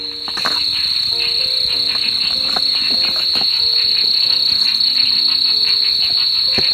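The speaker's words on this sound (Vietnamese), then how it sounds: "Ở dưới sình con ếch kêu to lắm mọi người ạ." Frogs croaking loudly from the mud in a forest swamp, a rapid repeated chorus of calls over a constant high insect drone from crickets, with no talking.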